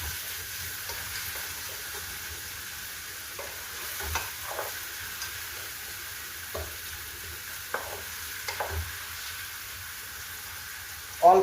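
Food fries gently in a pan over low heat, a quiet, even hiss broken by occasional soft clicks and taps of stirring, with a louder knock at the very end.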